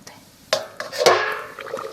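A metal lid goes onto a cooking pot of vegetable curry, several sharp clanks and a ringing clatter in close succession, near and moderately loud in a quiet kitchen.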